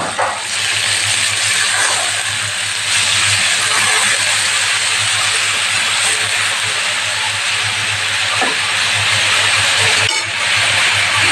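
Potatoes and carrots hit a hot pan for a thick vegetable curry, giving off a loud, steady sizzle and hiss that lasts the whole stretch with no voices.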